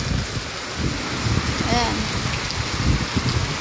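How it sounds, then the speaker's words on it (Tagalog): Heavy rain pours steadily on Flora Drive, a dense constant hiss and patter of drops on surfaces, with brief talking over it. "Grabe ang lakas ng ulan guys."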